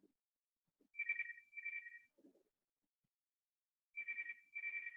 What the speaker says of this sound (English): Oh, there's the internet phone.